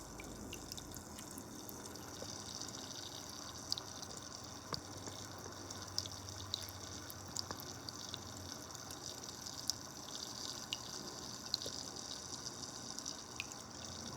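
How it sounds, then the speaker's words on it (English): Water trickles steadily and softly, like a small indoor fountain, with scattered light drips and splashes sounding throughout. "That's my little fountain that I wanted to share with you."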